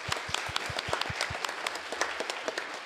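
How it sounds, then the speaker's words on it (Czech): Steady applause fills a hall at a programming contest award ceremony, many hands clapping densely with a few closer, sharper claps standing out near the start. "my vám zatleskáme"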